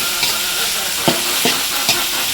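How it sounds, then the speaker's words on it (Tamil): Onions sizzling steadily in a pan for a mutton kuzhambu, with a spoon scraping through them in a few distinct stirs over the loud, constant frying hiss. "ஆனியன் நல்லா வதக்கிக்கலாம் ஃப்ரெண்ட்ஸ்."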